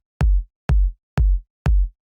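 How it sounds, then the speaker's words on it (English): Powerful house kick drum struck four times at an even pace, each a loud, deep thump with a short click and a quickly decaying boom, alone. "So what we have going on here is we have this kick."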